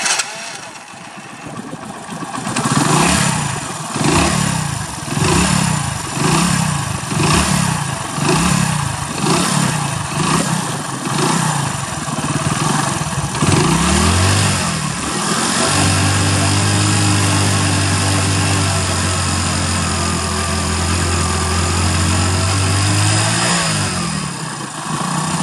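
A Hero Splendor BS4 motorcycle with its carburettor run dry cranks through a series of rhythmic starter pulses, catches, and then settles into a steady, close, loud idle that runs alone to the end.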